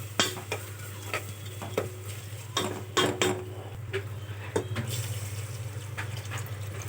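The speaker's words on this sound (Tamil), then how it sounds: "இப்போ நல்லா மிக்ஸ் பண்ணி விட்டுக்கலாம்." Spiced mixture of rock salt, turmeric, chilli powder and garam masala stirred and frying in a pan, with irregular scraping clatter and soft sizzle over a steady low hum.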